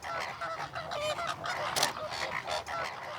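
Greater flamingos in the Camargue call during their courtship parade, a dense goose-like flock gabble of nasal honks overlapping continuously at moderate distance.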